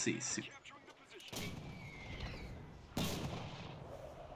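Two heavy booms of an artillery barrage land in the World War II shooter game Enlisted, each followed by a rumbling roar over a noisy battlefield background.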